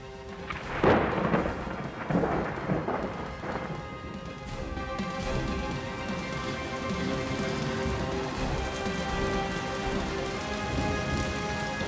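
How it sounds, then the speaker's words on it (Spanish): Steady rain falls throughout in a lonely, ominous scene, with a few loud rolls of thunder and crashes early on before the downpour settles into a continuous wash. "En la soledad del lugar y teniendo como única compañía la complicidad de la lluvia, Arturo"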